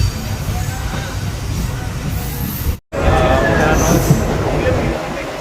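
A crowded local train rolls along with a steady, loud rumble and rattle of wheels, faint crowd babble mixed in, and a brief cut of silence partway through.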